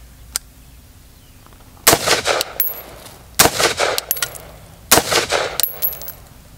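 A 7.62 rifle fitted with an AB Suppressors A-10 Warthog suppressor fires three quick bursts of rapid, muffled shots, evenly spaced with short quiet gaps between, close and loud against an otherwise quiet outdoor setting.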